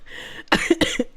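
A short burst of coughing right after hard laughter, several quick, harsh coughs close to the microphone, alone with no talking around them.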